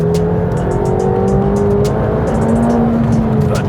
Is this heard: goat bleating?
no